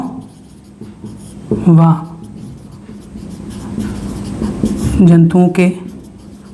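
Handwriting on a board or paper during a biology lesson on digestion: soft scratchy strokes running beneath a teacher's continuous speech, moderately close, with no clear separate bursts.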